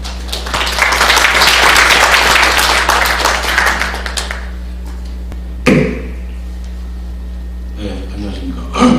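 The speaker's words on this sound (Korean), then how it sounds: "큰 박수로 맞으시기 바랍니다." At a Korean geospatial conference, an audience bursts into loud, dense applause to welcome a presenter. It swells for several seconds, then tapers off and stops, leaving a quiet room with a few thuds before a voice begins.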